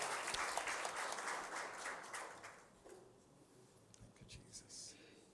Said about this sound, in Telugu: మరొకసారి దేవునికి చప్పట్లు కొట్టి దేవుని మనం మహింపరచుకుందాం.